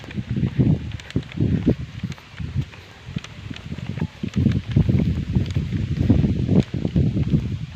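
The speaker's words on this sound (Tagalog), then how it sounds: "yan medyo mahangin" Gusty wind buffets the microphone in uneven low rumbling surges, steady and fairly loud outdoors, with no voices.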